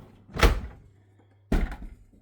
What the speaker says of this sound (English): Do you want me to open the door?